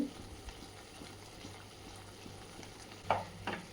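Mushroom masala being stirred in a pan: soft, quiet scraping and gentle simmering bubbles, with a couple of sharper clinks of the spoon against the pan near the end.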